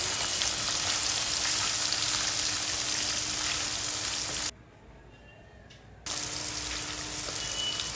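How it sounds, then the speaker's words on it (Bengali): Pieces of katla fish fry in hot oil in a pan, a loud, dense, continuous sizzle close up that briefly drops away for a moment before returning at full strength. "মাছগুলো ভেজে নেব।"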